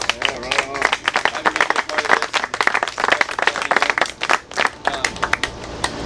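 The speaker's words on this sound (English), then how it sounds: "So just a round of applause to say thank you guys for it." An audience at a lacrosse camp game applauds players and parents with dense, continuous clapping from many hands, loud and close, with some crowd voices mixed in throughout.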